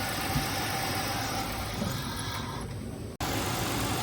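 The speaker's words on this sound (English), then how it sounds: "What propane does is it will enrich it and make the engine run a little rich." A 2000 Buick LeSabre engine idles steadily while propane is fed in to make it run rich, a constant loud mechanical drone that briefly dips and cuts out near the end before resuming.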